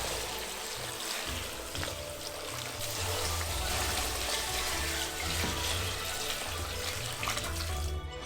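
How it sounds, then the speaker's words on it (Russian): Tap water runs steadily into a cooking pot for ramen broth with ginger, green onion and dried shiitake already in it. The gush is close and constant, rushing for the whole stretch, and no one speaks over it. "Наполняем кастрюлю водой."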